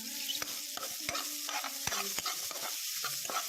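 Garlic and onion sauté in a pan, a gentle sizzle under repeated clicks and taps of a spatula against the pan as they are stirred, close and moderately quiet.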